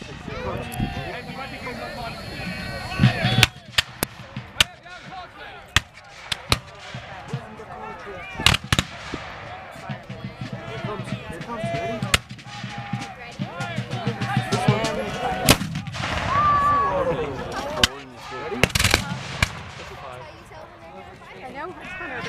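Revolutionary War reenactment firing, with sharp musket shots and artillery booms cracking out as separate loud bursts at irregular intervals, people talking and moving around between them.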